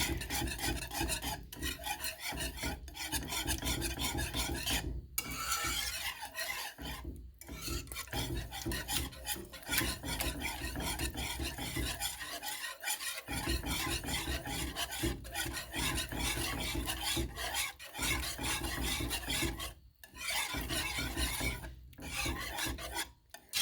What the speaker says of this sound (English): I'm going to get this whisked together.